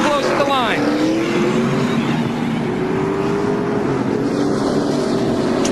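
NASCAR stock cars at the 2002 UAW-DaimlerChrysler 400 pitting on pit road, engines whining and revving as several cars accelerate away, with a race commentator talking over the continuous loud engine noise.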